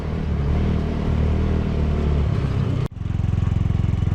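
A Hammerhead GTS 150 engine fitted with a Glixal 26mm carburetor, otherwise stock, on a dyno run, a loud steady rumbling drone that cuts out abruptly, then restarts as a lower, pulsing idle.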